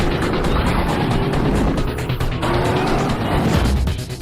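A loud, continuous car engine roar with tire noise rushing close by, consistent with the Batmobile Tumbler from the Batman films, sustained for the whole stretch with no talking.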